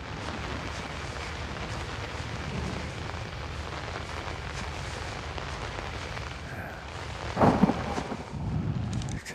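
Rain ambience in the horror video game Outlast, a steady dense hiss of downpour with a brief louder rumbling burst near the end.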